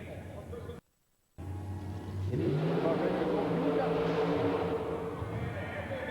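A monster truck engine roars during a race run at a 1990 USHRA event in Orlando, rising to a loud, sustained revving pitch after a brief gap, with an announcer talking over it.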